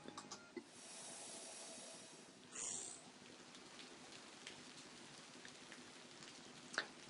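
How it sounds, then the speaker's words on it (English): Soft rain ambience plays quietly in the background of the Zen mode in the video game Bejeweled 3, a faint steady hiss broken by a few small game clicks and chimes. "there is the sound of some rain in the background, and that's because this is Zen mode"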